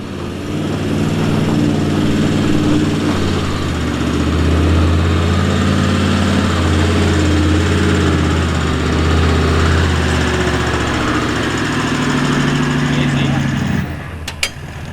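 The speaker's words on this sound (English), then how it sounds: "up next in the big cruiser. Lockers in, picked a good line, made it look easy." A big 4x4 cruiser engine on a steep hill climb in the Victorian High Country, a loud continuous low rumble that holds steady throughout, with a voice talking over it and a brief dip near the end.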